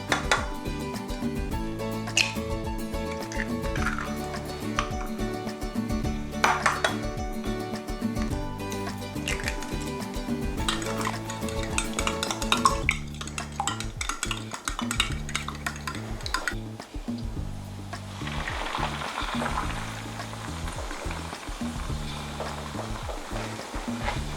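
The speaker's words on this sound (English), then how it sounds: "I've melted a little bit of butter on a nice big pan, and I'm just gonna crack these open, stir all the eggs up, and then scramble them" Eggs are cracked, stirred and scrambled in a big pan with melted butter, giving a steady scrape and clatter of a utensil against the pan that runs throughout, with music playing underneath.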